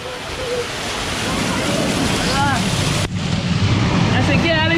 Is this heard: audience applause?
no